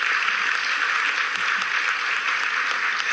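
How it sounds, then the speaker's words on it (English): Audience applause at a Juneteenth event in a career and technical center, a steady dense wash of many hands clapping for a few seconds, moderately loud with no talking. "So please give yourselves a round of applause."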